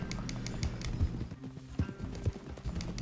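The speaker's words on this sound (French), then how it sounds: "Je trouve qu'il est tout petit son cheval à Charles." Steady clip-clop of horse hooves trotting along at a brisk, even rhythm over a constant background hum, with no voices, in the video game Red Dead Redemption 2.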